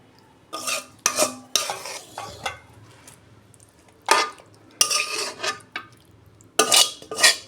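Cooked ridge gourd curry is emptied from a pan in a home kitchen, heard as a series of short, close scraping and clattering bursts of a utensil against metal, with quiet pauses between them.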